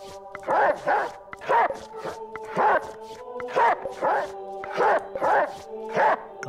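Cartoonish dog barks from the card game Reigns, a steady run of about nine yapping bursts spaced roughly every three-quarters of a second over a soft held musical drone.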